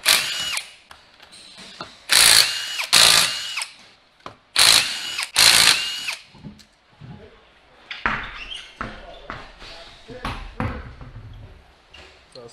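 A power tool whirs in repeated short bursts while the right rear wheel comes off a Hyundai Sonata with an electric parking brake fault, close and loud, with clanks and handling noises after.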